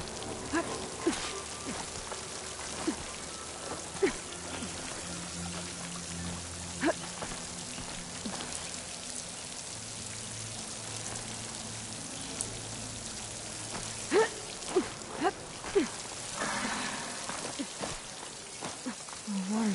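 Steady rushing of water in the Horizon Forbidden West game world near a waterfall, a soft continuous wash like rain or pouring flow, heard at low level with occasional light clicks and thuds over it.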